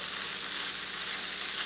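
Potatoes for home fries sizzle in a little olive oil over low heat while being stirred, making a soft, steady frying hiss without pause.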